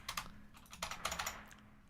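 Rapid clatter of keys typed on a computer keyboard, close and fairly quiet, with an uneven run of clicks and no talk.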